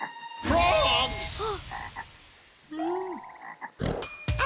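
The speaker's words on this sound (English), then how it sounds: "Frogs!" Cartoon frogs from Chuggington croak in a few distinct rising calls, separated by short gaps, clear and close with a brief noisy burst near the end.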